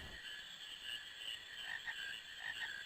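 Frog croaks in the video game Final Fantasy IX, a run of soft, repeated ribbits over a steady ambient hum, with no talking.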